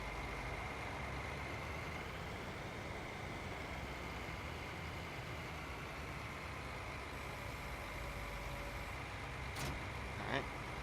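A tractor engine in the Farming Simulator 19 video game drives along with a steady, continuous low rumble and hum that holds at an even level throughout.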